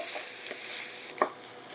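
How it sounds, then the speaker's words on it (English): Ground beef cooks with peppers and onions in a pan, a quiet soft sizzle with a single sharp spoon clink near the end, brief and low in level. "We're gonna finish cooking the ground beef, making sure no pink left inside"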